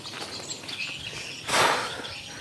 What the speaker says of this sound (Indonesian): Ada burung, guys.